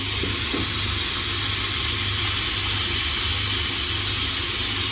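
Pot of beans on the stove hissing steadily, a loud continuous close steam hiss with a low rumble beneath and no speech.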